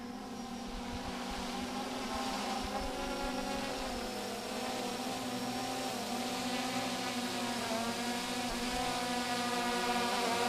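Pixhawk octocopter drone with eight motors whirring steadily in flight, a continuous layered buzzing drone with tonal bands, fairly close and unbroken throughout.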